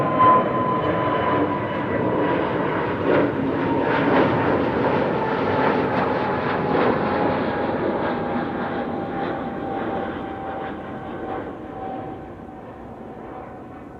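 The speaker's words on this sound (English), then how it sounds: "Another wide body overhead already." A wide-body airliner passes overhead near Amsterdam Schiphol Airport, a loud sustained engine roar with a faint whining tone that slowly drops in pitch as the jet moves away.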